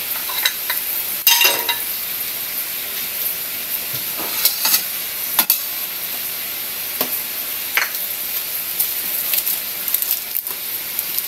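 Food stirred in a hot pan after oyster sauce, Ajinomoto and pepper go in, giving a steady sizzling hiss broken by a few sharp scrapes and clinks of the utensil.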